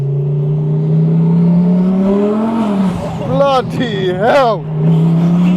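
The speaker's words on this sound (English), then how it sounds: "You can hear the turbo spool up like crazy." A twin-turbo Audi R8 Spyder drones loudly inside the cabin, then revs in sharp rising and falling sweeps with a whistling turbo spool. An excited voice exclaims over the engine.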